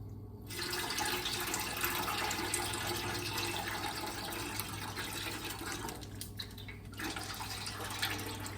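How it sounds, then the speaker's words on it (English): Liquid drains from a pot of red pepper and tomato soup, pouring in a steady, faint splash and trickle that runs on for several seconds with a brief dip near the end. "I think I'm going to just drain as much of the liquid in here as I can without making a mess"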